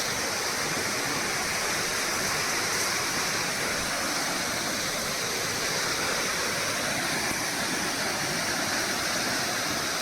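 Beema Falls at Jamunamarathur in the Javadhu Hills, water plunging fifty to sixty feet, roars as a steady, dense, broadband rush that stays loud and unbroken throughout, with no voices.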